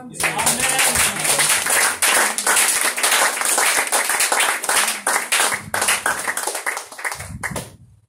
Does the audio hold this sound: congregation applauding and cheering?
yes